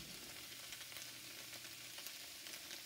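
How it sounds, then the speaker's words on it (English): Vegetables searing in a hot pan, a steady crackling sizzle with faint stirring scrapes, close, even and without voices. "kind of sizzling, I mean, just searing them."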